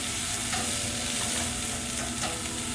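Vegetables being stirred and sautéed in a hot pan, with steady sizzling and a few utensil scrapes throughout, close and fairly loud with no talking.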